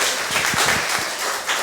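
Dense applause from a lecture audience, a steady wash of many hands clapping together at close range for about a second and a half, with no talk over it.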